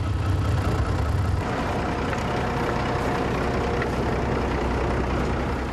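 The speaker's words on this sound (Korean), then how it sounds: "가장 어려운 건 시동 걸기라고 하는데요." A tank's engine, started and run by nomads in Russia, gives a heavy, loud, continuous low rumble that surges briefly at first and then settles into a steady drone.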